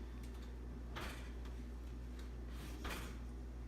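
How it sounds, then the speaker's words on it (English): A kitchen oven door swings shut after a cake goes onto the center rack, giving a couple of faint, brief thuds and clicks in an otherwise quiet room. "Close the oven door, of course."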